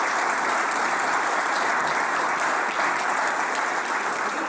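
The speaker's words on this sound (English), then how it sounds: "Round of applause for Andrew, please." A conference audience applauds after a presentation, with dense, even clapping that holds steady throughout, without voices.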